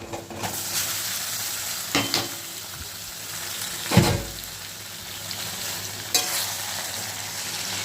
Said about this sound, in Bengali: কচুর শাকটা আমি এই তেলে দিয়ে দেবো